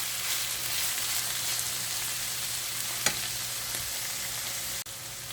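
Mutton keema with potatoes frying in a pan, a steady close sizzle throughout with a faint stirring scrape and a brief clink near the end.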